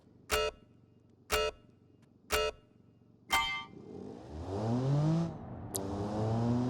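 A hatchback in the BeamNG driving game gives four sharp, loud revs, each a short burst. The engine then holds a rising, sustained drone with a whining pitch climbing as the car accelerates.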